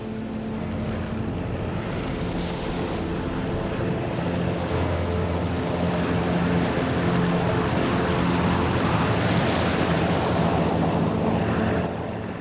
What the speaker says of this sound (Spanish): Tan pronto como el bote salvavidas toca el agua, es liberado y los soportes de arriado lo mantienen fuera de peligro.